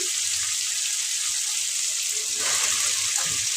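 Washed chicken pieces hit a hot pan for a home-cooked chicken curry, giving a steady close sizzle and hiss of frying that swells louder partway through, with faint stirring and no talk.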